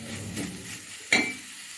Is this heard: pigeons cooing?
no